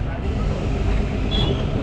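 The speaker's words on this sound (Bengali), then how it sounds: "স্টেশন ক্রস করছি এখন আমাদের ট্রেন" Shimla–Kalka toy train rolling through a station, a steady low rumble of wheels and carriage noise heard from on board, continuous and fairly loud throughout.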